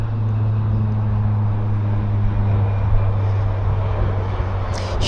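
A Convair 580 turboprop airliner at Vancouver airport gives a steady, droning propeller hum with strong low tones, holding fairly loud and constant throughout with no talk.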